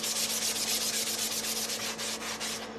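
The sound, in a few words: sanding with a sanding block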